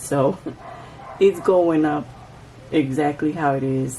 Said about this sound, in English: So there is a dog next door which is barking like crazy